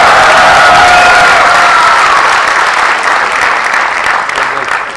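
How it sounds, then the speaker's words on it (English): An audience applauds and cheers, a dense, loud wash of clapping sustained throughout with faint whoops early on, easing slightly toward the end. "give yourselves a big cheer for what you're doing at the moment"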